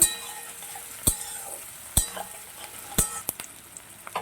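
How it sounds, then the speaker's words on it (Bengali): Onions with Kashmiri chili powder are stirred in a frying pan, a low background sizzle broken by four or five sharp, evenly spaced clacks of a spatula against the pan. "পেঁয়াজটা একটু নেড়ে ছেড়ে নিয়ে"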